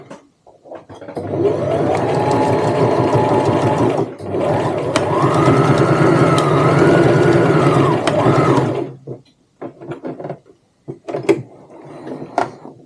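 A sewing machine stitches a tote bag in two long, loud, steady whirring runs with a brief pause between, followed by scattered clicks and handling noises.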